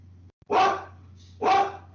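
Household dogs bark indoors as a family member comes home, two loud, close barks about a second apart over a low steady hum.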